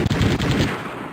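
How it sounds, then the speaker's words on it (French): An explosion from bombarding a city in a strategy video game opens with a few sharp, rapid booming cracks and then rolls off into a fading rumble, with no talking. "Ah, ce bruit d'explosion, je pense qu'on a détruit la ville."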